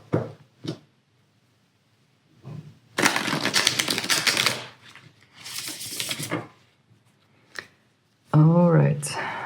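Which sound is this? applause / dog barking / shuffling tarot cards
shuffling tarot cards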